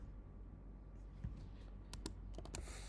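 Soft mouse clicks and a few light keyboard taps sound close and faint at a computer while configuring a Juniper Apstra data center, over a steady low hum.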